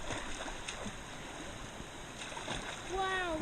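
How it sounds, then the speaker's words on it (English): River water rushes and splashes around a small paddled boat on rapids of the Frio River, a steady broadband wash with a brief whistle-like tone near the end and faint voices under it. "About to hit our first rapid."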